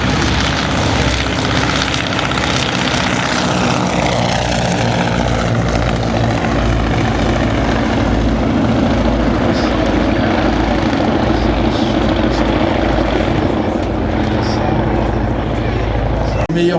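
A propeller aircraft takes off on its own at an air show at La Ferté-Alais, its engine roaring loud and steady throughout, with a commentator talking over it.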